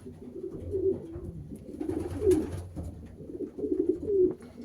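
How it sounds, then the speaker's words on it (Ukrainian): Racing pigeons coo in a loft, a mother hen that first returned from a 370 km race among them, with repeated soft, low throaty coos in rhythmic bursts, close and moderately loud with no talk. "а ось це мама голубочки, яка прийшла з 370 км перша"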